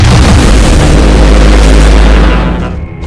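One massive, roaring explosion from an Ork death gun in Warhammer 40000 Regicide, a loud sustained blast with deep rumble that fades slightly at the very end.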